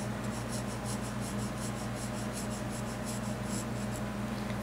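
Gold marker scratching over colored pencil on paper, a soft rhythmic rubbing of repeated strokes, quiet and close, over a faint steady hum with no talk.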